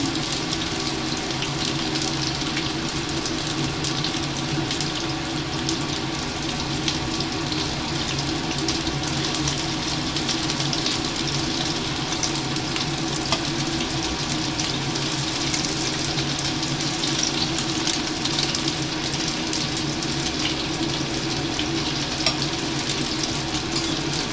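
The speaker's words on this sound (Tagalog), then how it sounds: "So, i-fry natin hanggang golden brown." Beef meatballs rolled in cornstarch frying in oil in a pan, a steady, even sizzle and hiss that runs unbroken and fairly loud, with no talk.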